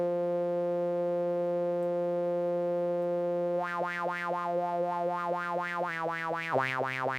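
A self-oscillating filter in a Pure Data synthesizer patch rings as a steady pure tone, then turns into rhythmic, repeated sweeping pulses that rise and fall in pitch, stepping lower near the end, heard alone and clean.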